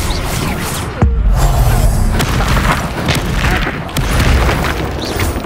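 Confringo fire spell from the Hogwarts Legacy video game, a loud booming blast that opens into a sustained roaring rumble with further impacts, dense and close over game sound effects.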